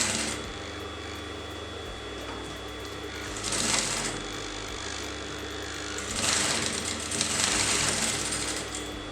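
A sewing machine stitches a kurti neckline in two bursts of rapid, loud mechanical chatter, heard close. A motor hum runs underneath between the bursts.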